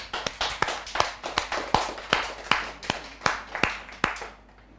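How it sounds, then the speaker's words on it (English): A studio audience claps to welcome a woman who runs a cement and building-materials business onto the Orange Couch interview set, with sharp, fairly sparse hand claps that carry on steadily and fade out near the end. "Let's welcome her with a big round of applause."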